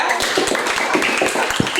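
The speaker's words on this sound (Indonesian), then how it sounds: "Ya, berikan tepuk tangannya ya." A classroom of students claps for groups one and five, a dense burst of quick, close applause.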